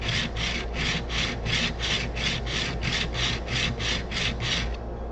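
Flat back of a woodworking chisel rubbed back and forth on a sharpening stone, about fourteen even, rhythmic gritty strokes, close and fairly quiet, with no talking.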